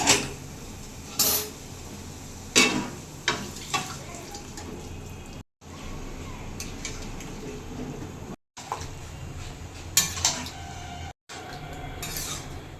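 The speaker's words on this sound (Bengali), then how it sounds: "এবার সেদ্ধ করে রাখা চিটে চানাটা দিয়ে দেবো" Boiled chickpeas tipped into cooked masala in a pan for Punjabi chana masala, giving clattering spoon-and-pan knocks and scraping, wet stirring noises, loud near bursts separated by short gaps.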